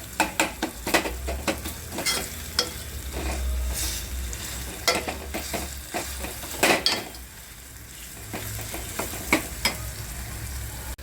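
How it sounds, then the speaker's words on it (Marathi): Chicken liver curry masala with kasuri methi frying in oil while a spoon stirs and scrapes the pan, producing a steady low sizzle broken by repeated sharp metallic scrapes and clinks, close and alone without talk. "बघा पूर्ण मसाला भाजत आलेला आहे"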